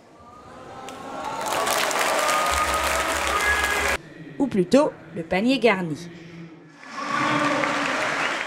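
Audience applause at an outdoor show jumping event, with a crowd clapping steadily, then someone speaking over a brief pause before clapping swells again near the end.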